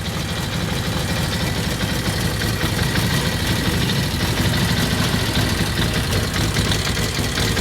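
A cold Brough Superior SS80 motorcycle engine idles steadily with the choke off, a close, continuous low throb with a mechanical rattle that holds an even level throughout and has no talk over it.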